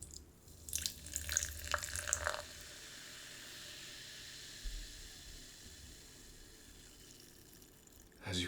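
Carbonated soda is poured into a glass, a splashing, gurgling stream in the first seconds followed by a quiet, sustained fizz of bubbles, close and soft.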